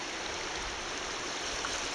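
Turbulent current of the Weiser River at Shoepeg Bridge in January, a steady broadband rush of flowing water that holds even and continuous throughout, close and moderately loud with no voices.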